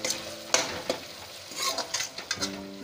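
Garam masala curry base being stirred and fried in a pan for spinach kofta curry: a steady sizzle under a few distinct scraping strokes of a spoon against the pan, near and moderately loud with no talking.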